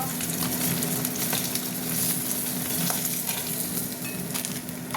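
Three pieces of fish, belly cuts and one steak, fry in hot oil with a continuous, even sizzle and crackle, close and steady, with small pops scattered throughout.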